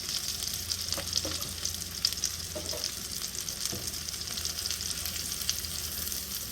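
About five ounces of mushrooms sauté in a pan with a steady, even sizzle and a few soft stirring taps. No voices are heard.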